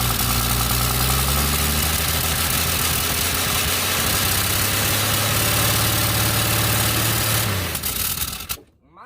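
A long-abandoned Plymouth Duster engine, run again after sitting two decades with the hood up, roars loudly and steadily up close, its tone dropping as the revs come down. It cuts off abruptly near the end.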